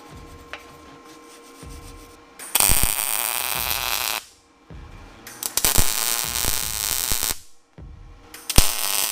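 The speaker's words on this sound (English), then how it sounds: "it's time to try to make a nice butt weld where the two ends meet." Butt welding the meeting ends of a steel motorcycle rack hoop on a welding table produces bursts of loud, crackling hiss separated by short quiet pauses.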